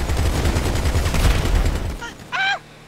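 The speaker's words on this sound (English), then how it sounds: "Jet ski explosion." A jet ski blows up in Grand Theft Auto V, a dense burst of explosive crackle and rumble that fills the first two seconds, then cuts out, followed by a brief high-pitched squeal.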